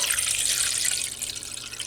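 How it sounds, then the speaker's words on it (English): Lye water solution being poured into a stainless steel pot, a steady bright hissing stream of liquid that stays near and loud without pause, no voices. "I'm going to pour in my solution into this stainless steel pot"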